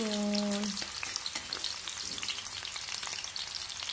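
Red onion sautéing in a little oil in a hot pan, a steady, bright sizzle with scraping stirs, close and continuous, after a short voiced tone at the start.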